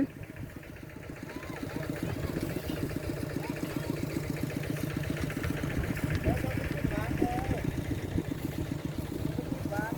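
A vehicle engine idles steadily nearby, its rapid rhythmic throb continuous beneath people talking.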